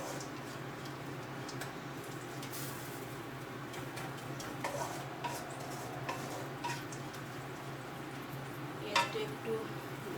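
Loitta dried fish (shutki) is dry-fried without oil and stirred in a pan, with soft scraping and light clinks of a utensil against the metal over a faint sizzle, under a quiet room hum.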